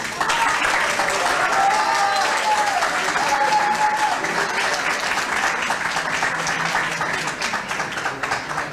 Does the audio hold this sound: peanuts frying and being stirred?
no